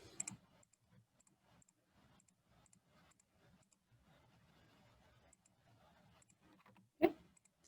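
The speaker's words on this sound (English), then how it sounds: "Looks like I'm also double clicking in some spots." Faint, quick computer mouse clicks, some in double pairs, scattered irregularly across a quiet room, with one sharper, louder click near the end.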